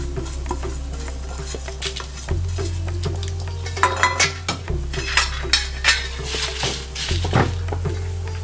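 Dried red Byadgi chillies roasting with a little curry leaf in a pan over a slow flame, with repeated scraping stirs and light metallic clinks of a spoon on the pan under steady background music.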